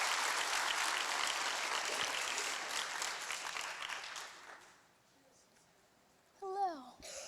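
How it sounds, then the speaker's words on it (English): An audience at a women's retreat claps warmly for several seconds, then the applause thins and fades away; a lone voice speaks briefly near the end. "Clap for her, you guys."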